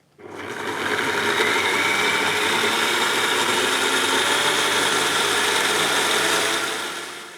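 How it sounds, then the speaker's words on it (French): A Kenwood Cooking Chef blender attachment whirs at medium speed while blending an herb coulis, a steady close motor drone that starts abruptly, holds constant for several seconds and tapers at the end, with no talking. "Je mets le couvercle et j'installe le blender. Et ensuite, je mets en vitesse moyenne."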